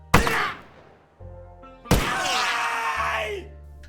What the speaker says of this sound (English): injury sounds,